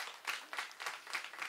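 Audience applause at a live music event, filling a brief moment in several soft swelling waves of clapping, fairly quiet and somewhat distant, with no talk over it.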